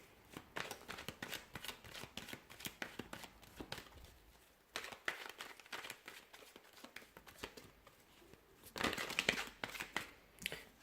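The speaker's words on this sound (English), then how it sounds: "So I'm going to go ahead and give the cards a shuffle" Tarot cards being shuffled by hand, a dense run of crisp riffling and slapping bursts that pause briefly near the middle, then come back louder toward the end, close up with no talk.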